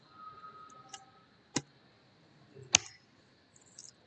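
Computer keyboard keys tapped for a save-and-exit shortcut sequence, a few sparse, sharp clicks spread over several seconds with near silence between them, close and fairly quiet.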